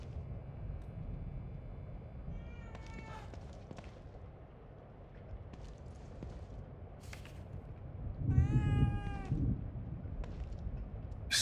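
A cat meows a few times in the psychological horror game The Evil Within 2, quiet and drawn out over a low ambient rumble, with a louder cry toward the end.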